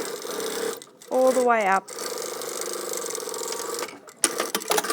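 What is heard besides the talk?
sewing machine stitching a trouser fly front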